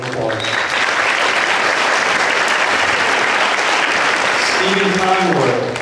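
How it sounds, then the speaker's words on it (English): Sustained audience applause fills a school Veterans Day assembly, dense steady clapping from a large crowd lasting throughout, with faint voices mixed in near the end. "Round of applause."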